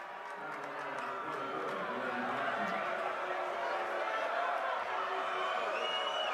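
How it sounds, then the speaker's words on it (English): Home crowd at a boys high school basketball game murmuring and jeering in a gym after a foul call, a steady mid-level roar of many voices rising slightly, with a nearby voice heard over it. "The home crowd showing their displeasure with that call."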